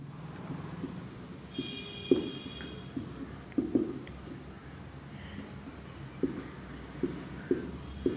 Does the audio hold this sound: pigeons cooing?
no